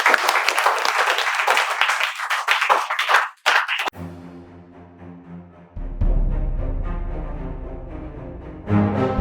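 Welcoming applause rattles briskly for a few seconds, then cuts off abruptly into sustained musical tones with a deep bass swell that carry to the end.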